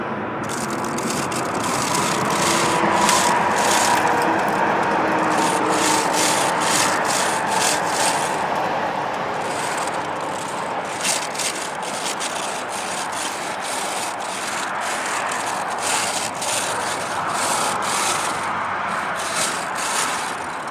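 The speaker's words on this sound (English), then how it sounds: "You want to make sure you use only a nylon brush inside that liner." A nylon brush scrubs inside a stainless steel chimney liner over a stove insert, giving steady, continuous rubbing and scraping with rhythmic strokes, fairly loud and close, with no talk.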